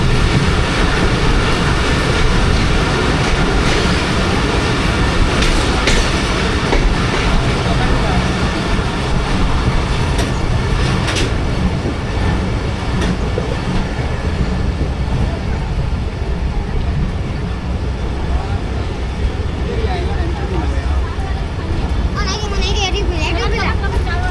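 Rehman Baba Express passenger train rolling on rails near Drigh Road Junction, a steady loud rumble with faint rhythmic clatter throughout, heard from on board alongside background voices.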